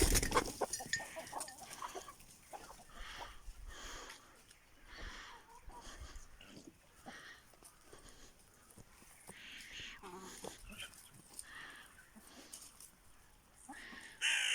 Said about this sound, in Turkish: Şimdi tavuklarımız dışarıya çıkacaklar.